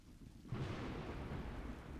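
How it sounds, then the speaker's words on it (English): A thunderstorm in the video game Cubic Odyssey: a sudden rumble of thunder breaks in over steady rain, leaving a dense, continuous downpour that fills the scene. "In the middle of the thunderstorm."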